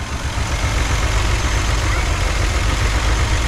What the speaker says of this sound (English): but hey, she's idling on her own, guys.